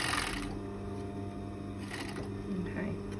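An overlocker stitches a cuff onto jersey fabric, giving a quiet, close, continuous mechanical whirr with small rattling clicks throughout.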